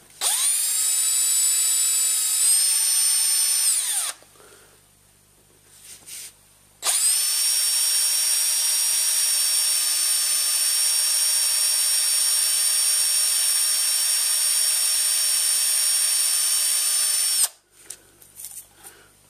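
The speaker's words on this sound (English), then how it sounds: "So I'm just going to drill a hole here at this end here." A power drill bores a hole through the cabin top for a bolt, with two long, steady high-pitched whirring runs separated by brief pauses and small handling clatter, loud and close, with no talking.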